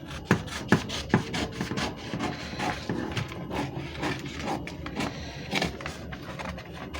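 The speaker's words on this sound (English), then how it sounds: "The next thing is for me to cut out this pattern." Scissors cutting a paper sewing pattern for a velvet corset top, a faint series of uneven rasping snips and rustles at close range, with no talking.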